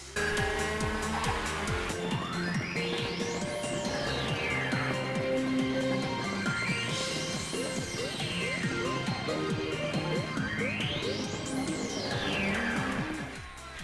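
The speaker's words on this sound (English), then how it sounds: "you can hear a phaser filter is put onto the music, giving it a sort of retro feel" Continuous dense electronic Mario Kart 8 race music with a phaser filter sweeping up and down in three slow, regular arcs, giving a swirling retro tone throughout.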